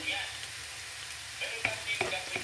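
Onions fry in a pan for pancit with a steady, close sizzle and light crackle, a few utensil taps and stirring clinks landing near the end; a voice speaks faintly beneath the frying.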